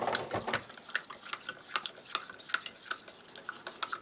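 A spoon stirs a Norwegian arctic field ration of chicken and lime after water is added, giving a quick, faint run of rhythmic scraping clicks with no talking.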